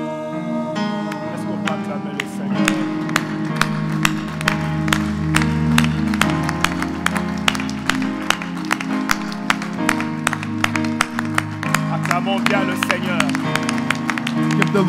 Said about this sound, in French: Give the Lord a good round of applause.